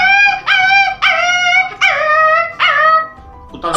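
A voice imitates a big dog, giving a series of loud, close howling and barking cries, five drawn-out yowls with short gaps, ending in a brief yip.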